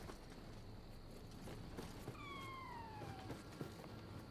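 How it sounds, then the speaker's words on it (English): A cat meows in the video game Nioh 2, a single drawn-out falling call lasting about a second, moderately clear over a steady layer of game ambience and faint footsteps. "I hear a cat."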